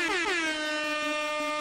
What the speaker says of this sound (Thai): อันนี้เสียงโรบอทฮะ